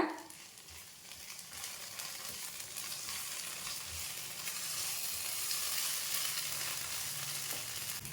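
Spices sizzle in a hot pan while being stirred for pink sauce pasta. The frying hiss is steady and fairly soft, with faint scrapes of stirring and no talk.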